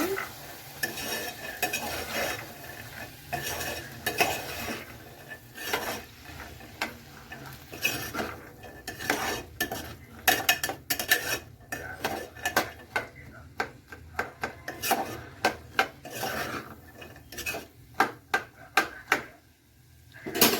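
Chikkudu bean seed curry being stirred in a pan at home, a steady scraping of spoon against metal with clicks and knocks growing more distinct toward the end over a low sizzle.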